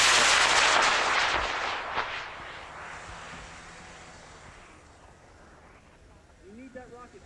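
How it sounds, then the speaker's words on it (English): Model rocket launching from pad 3 at an outdoor launch site: a loud roaring rush of motor thrust at ignition that fades over several seconds as the rocket climbs away, with faint voices near the end. "all eyeballs on the rocket on pad 3. Going at 5, 4, 3, 2, 1. Big shot."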